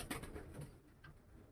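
Pigeons coo softly inside a pigeon loft, giving low, faint murmuring calls that blend into a hushed background without any talking.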